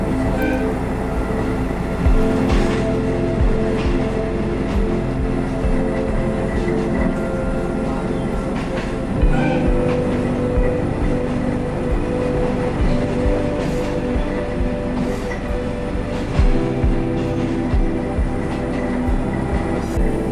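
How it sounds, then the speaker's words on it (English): A train on Japan's Watarase Keikoku line rumbles steadily along the rails with a dense, continuous roar and periodic rhythmic clicks from the wheels, close and loud throughout, arriving at Kamikanbai Station. "Right now the train is arriving at Kamikanbai Station"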